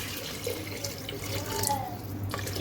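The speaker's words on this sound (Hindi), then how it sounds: "यहाँ मैं इसमें पानी डालूँगी।" Water pours steadily into a pot of turnip pieces set for pressure cooking in a home kitchen, making a continuous splashing and gurgling flow close by.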